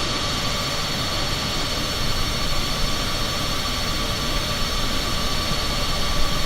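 Steady, dense engine roar of an aircraft in the Microsoft Flight Simulator video game, a broad continuous rumble and whine that stays loud and even throughout without clear approach or fade.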